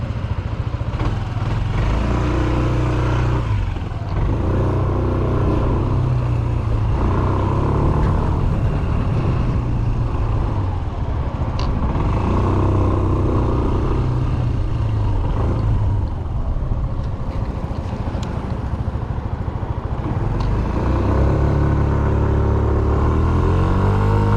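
A Yamaha Smax scooter rides along a highway with a steady, close engine drone and wind rumble that swell and ease over the whole stretch, without speech.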